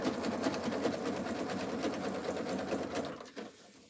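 A sewing machine stitches a jelly roll fabric rug in a continuous close, whirring run with rapid needle clatter, then stops abruptly near the end.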